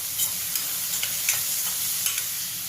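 Onion fries with salt in a pan, a continuous close sizzle punctuated by several light spoon scrapes and taps as it is stirred.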